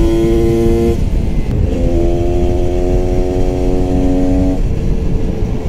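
A GasGas 300 two-stroke supermoto engine drones loudly and steadily up close, its pitch stepping up and down between gears, with no voices.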